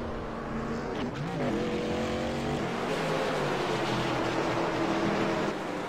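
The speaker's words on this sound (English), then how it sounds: "Lots of cars coming down pit lane." Race cars at Daytona drone past in a continuous layered engine roar, with pitch sweeps as cars accelerate and pass, all held at a steady, fairly close level with no talk.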